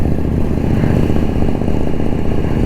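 A superbike engine, priced around twenty lakh rupees, running loud and close with a deep, throbbing rumble that holds steady, alone and without voices.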